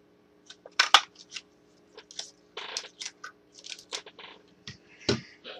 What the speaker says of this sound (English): we're going to cut two of these out